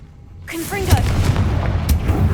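Confringo fire spell in Hogwarts Legacy: after a near-silent start, a sudden loud boom with a crackling burst and rumbling tail, then another sharp impact near the end, with speech underneath.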